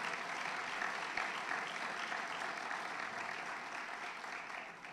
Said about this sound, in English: let's give a round of applause to all of our nominees.